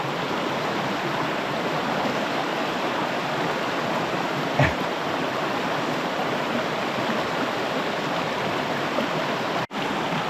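A fairly full mountain river in the Beskydy rushes steadily and loudly nearby, a continuous broadband roar with no voices, broken only by a brief thump.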